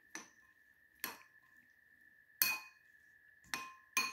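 Fresh salad with pepper mixed in a bowl, with about five sharp utensil clinks against the bowl, spaced irregularly, each leaving a brief ringing tone, close and fairly quiet.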